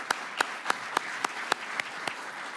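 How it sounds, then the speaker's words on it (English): Audience applause at an institutional welcome event, heard as a steady wash of clapping with sharper individual claps standing out about every third of a second, moderately loud and alone. "So if you can join me just in giving them again a round of applause."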